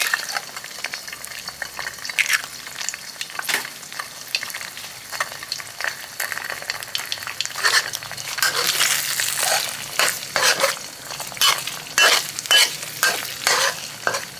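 Eggs stir-fried in a pan for an Isan dish with fermented shrimp hiss and crackle while a spatula scrapes and clatters in quick, uneven strokes, close and fairly loud.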